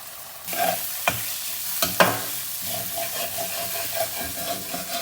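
Broccoli and moong dal frying in a pan, a sizzle that swells as the lid comes off, with loud stirring scrapes and clanks of the spoon against the pan, near and without speech.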